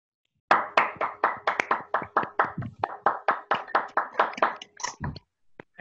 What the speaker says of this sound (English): let's give a round of applause for Little the Hamsa, everyone.